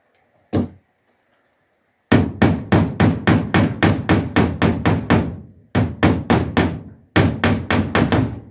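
A single hammer blow on a Ford Escort Mk1 car body panel, then rapid series of sharp metallic hammer strikes in quick even bursts, loud and close, with brief pauses between runs.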